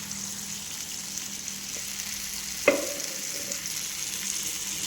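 Chicken for a white gravy cooks in a pan with a steady soft sizzle, one brief clatter of stirring standing out partway through; no one talks.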